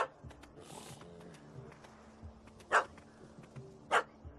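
A dog barks twice, sharp and fairly close, in the Witcher III Wild Hunt game, with a puppy chasing a cat up a tree; soft ambient game noise fills the gaps between the barks.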